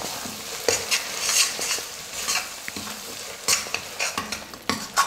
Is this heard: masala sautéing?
yes